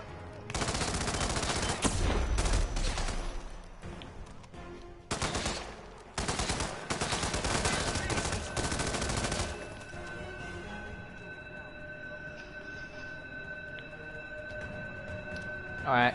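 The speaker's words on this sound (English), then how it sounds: "I hate submachine guns sometimes." Submachine gun fire in the Hitman video game, long sustained automatic bursts broken by short pauses, loud and close, followed by a quieter ringing tone after the shooting stops.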